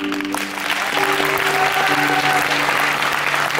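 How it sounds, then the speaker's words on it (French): Dense, loud applause from a concert crowd at a live stage show, steady throughout, with a faint sustained tone underneath. "Alors on peut applaudir Bise, on peut applaudir très très fort."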